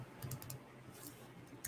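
Quick bursts of typing on a computer keyboard, with soft close clicks in short uneven clusters and brief pauses between them.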